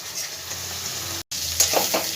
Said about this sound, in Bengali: এবার সব মশলাগুলো একসাথে ভালো করে কষিয়ে নেব যতক্ষণ না মশলা থেকে তেলটা ছেড়ে উঠছে।